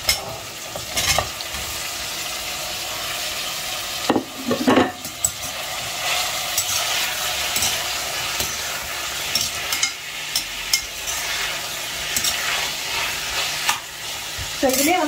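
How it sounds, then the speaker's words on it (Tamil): Chopped tomatoes sauté with onions in an oily pan while an eggplant kuzhambu is cooked: a steady sizzle is broken by the scrapes and clinks of a spoon stirring against the pan, with no talk. "இதில் இப்போ நம்ம தக்காளி ஆட் பண்ணி வதக்கிக்கலாம்."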